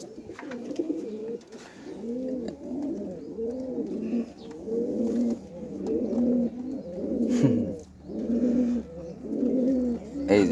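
Pigeons coo in a steady run of soft, rounded, repeating calls, fairly close and continuous, with a few faint rustles and knocks in the background and no talking.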